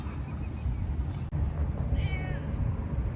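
A cat gives a short meow, then another, over steady outdoor background noise in Al Nadha Pond Park.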